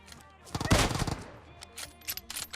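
Kar98 sniper rifle fire in the Garena Free Fire mobile game, a loud burst of sharp crackling shots in the first second, followed by fainter scattered reports and game effects.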